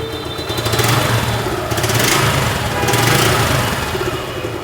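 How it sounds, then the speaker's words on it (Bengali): A Suzuki Gixxer Monotone 2024 motorcycle in used condition idles steadily after starting, a smooth, even engine hum close by that swells slightly in a few gentle surges with no talking. "এবার বাইকটা স্টার্ট করে আপনাদেরকে সাউন্ডটা শোনাবো।"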